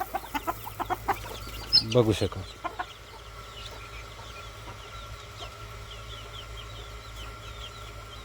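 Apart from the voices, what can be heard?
chickens clucking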